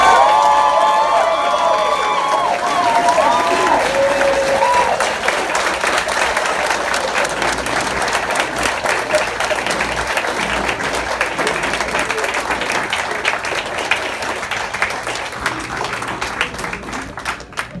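A large graduation audience applauds the Universal Technical Institute class of May 2022, a sustained roar of clapping with cheers and whoops mixed in, strong throughout and easing slightly toward the end.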